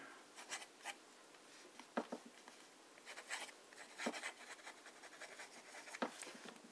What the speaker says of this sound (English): Fine writing.